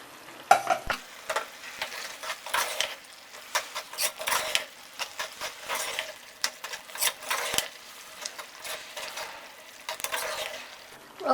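A spoon stirs menthi (fenugreek leaf) and tomato curry in an opened pressure cooker, giving repeated scraping, wet squelching strokes and a soft sizzle, with no voices.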